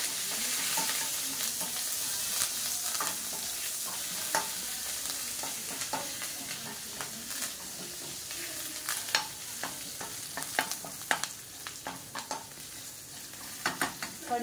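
Curry leaves and green chilies sizzling in hot oil with roasted cumin seeds, a steady close frying hiss with crackles and spatters as the pan is stirred.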